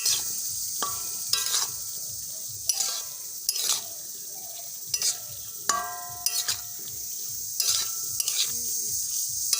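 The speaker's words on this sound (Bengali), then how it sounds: "সজনে ফুলগুলো নাড়াচাড়া দিয়ে ভালোভাবে মিশিয়ে নেব" A spoon scrapes and stirs drumstick flowers in a pan for a vegetarian ghonto, with repeated sharp scraping strokes at an uneven rhythm over a constant close sizzle of frying.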